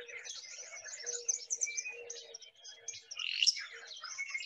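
A flycatcher in the Truckee Meadows gives its sharp fitz-bew call among other scattered bird chirps, several short bright notes at moderate distance.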